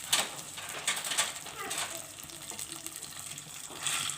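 A cup of vermicelli fries in hot oil for sheer khurma, giving a steady close hiss and sizzle with small crackles throughout, while someone talks faintly in the background.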